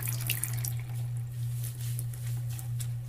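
Water running steadily from a tap into a draining sink while a wig is rinsed, a constant close hiss and splash with light dripping and squishing over it.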